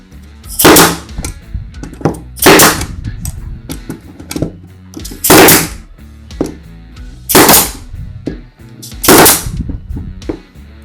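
Five sharp, loud shots from a Mollar F5040 pneumatic brad nailer run off an air compressor, each a hard crack with a brief hiss, spaced about two seconds apart.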